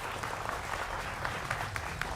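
A studio audience at a Hindi television debate show claps steadily, a dense, fairly faint patter of many hands continuing throughout with no talking.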